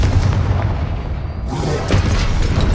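Loud, booming Confringo blasting-spell explosions in Hogwarts Legacy combat, rumbling continuously with overlapping bursts and a fresh blast partway through.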